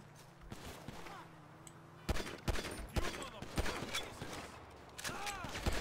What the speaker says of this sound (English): all the pedestrians are just opening fire